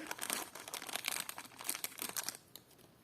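Thin plastic packet crinkling and rustling up close while a parcel of vintage clip-on earrings is unboxed, in dense rapid bursts for over two seconds before fading to quiet handling.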